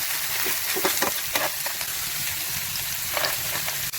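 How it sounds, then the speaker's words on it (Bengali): Cashews and almonds fry in ghee in a pan, giving a steady, close sizzle with light crackling and occasional stirring scrapes. "কাজু আর আমন্ডটা এক সাইডে ভেজে নিচ্ছি।"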